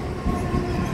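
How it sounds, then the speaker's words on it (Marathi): Two trains passing on both sides at Karjat railway station, a loud close rumble of rolling wheels and rattling carriages with a faint metallic whine, continuous throughout with no voices. "दोन्ही साईडसून 2 ट्रेन."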